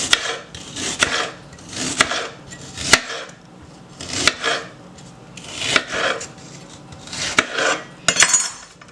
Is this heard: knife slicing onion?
yes